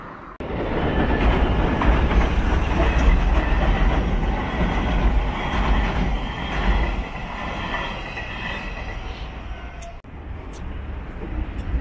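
A Hanshin Namba Line train rumbles loudly past a level crossing near Denpo station in Osaka, with continuous heavy wheel and car noise for most of the span, fading slightly near the end.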